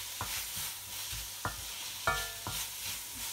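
Ginger garlic paste fries in a pan with a soft sizzle, punctuated by four or five sharp scrapes and clinks of a spoon stirring against the metal, quiet and close with no talking.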